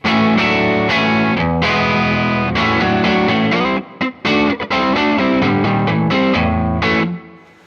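Distorted electric guitar through a 1x12 cabinet simulation plays chords and riffs with a chorus-like shimmer, loud and up front, with short choppy gaps near the end.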